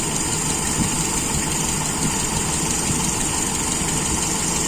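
A carburetted engine idles after its idle screw has been adjusted, running steadily with a dense, even, close-up drone and no talk.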